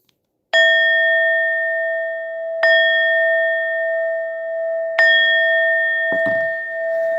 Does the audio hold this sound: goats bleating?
no